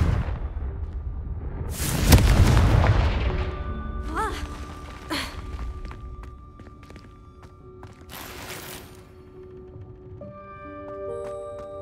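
A Confringo blasting curse in a Harry Potter video game goes off as a loud whooshing explosive burst, followed by fainter magical chimes, crackles and game effects.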